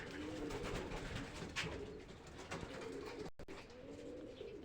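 Pigeons coo inside a desert loft in Kuwait where each compartment holds birds, low soft repeated coos layered over a constant airy background, with a momentary dropout partway through.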